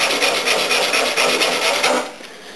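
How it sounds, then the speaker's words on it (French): Wood on a planter stand is sanded by hand in steady rhythmic back-and-forth rasping strokes, close and loud, stopping abruptly near the end. "Le but c'est pas de frotter, de poncer le métal, hein. Le but c'est de poncer le bois."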